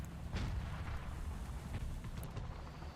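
An anti-aircraft gun firing in War Thunder, a muffled, low rumbling series of booming shots rolling on continuously at a distance, fairly quiet throughout.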